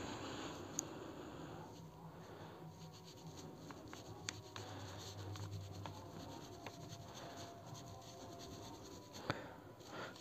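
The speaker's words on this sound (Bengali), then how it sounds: "এখানে আমি একটি নাম লিখে দিচ্ছি" A pen writes a name onto a voter registration form with steady, soft scratching strokes that run close and continuous, broken by a few light taps as the tip lifts and lands.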